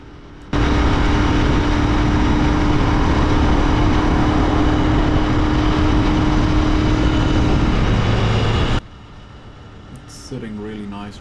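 Royal Enfield Interceptor 650 motorcycle cruising at 100 km/h, a loud steady engine drone mixed with heavy wind roar that cuts off abruptly, followed by a quiet stretch with someone speaking.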